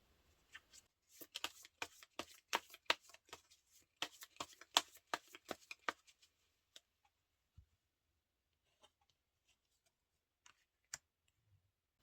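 Tarot cards are shuffled and drawn in a quiet room, a quick close run of crisp riffling clicks for several seconds, then a few isolated soft taps and card snaps spaced apart.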